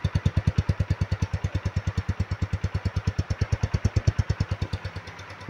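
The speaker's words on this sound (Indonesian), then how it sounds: "Suaranya cukup halus ya untuk sebuah motor trail." A 2023 Kawasaki KLX 150 SM supermoto-style trail motorcycle idles close by, its single engine thumping in a steady, even rhythm of low pulses throughout, with no voices.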